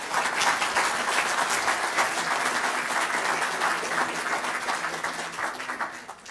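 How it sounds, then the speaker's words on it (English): Sustained applause from an evening symposium audience, dense steady clapping filling the room throughout and easing slightly toward the end. "you guys should, you know, please applaud"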